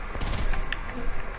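Gunshots ring out in a quick burst of several sharp cracks, close and fairly loud, with a couple of fainter shots following.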